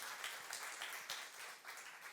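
A church congregation at a youth service claps together, a sustained patter of many hands applauding evenly, with no clear talk over it.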